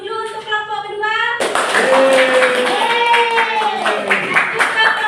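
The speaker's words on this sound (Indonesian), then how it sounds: "Nah, tepuk tangannya dulu untuk kelompok kedua." Clapping from a classroom of schoolchildren applauding the second group, a dense burst of hands that starts abruptly after a short stretch of voices and carries on steadily with voices mixed in.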